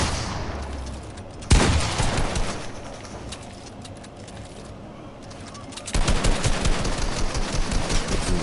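Gunfire in the video game Fortnite: a sharp loud burst comes early, then after a quieter stretch a dense run of rapid shots rattles steadily to the end, with no clear speech.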